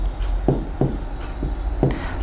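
Pen or chalk writing numbers during a physics lesson on mirror reflection: a series of short scratchy strokes at an uneven pace, close and fairly clear, with no talking over them.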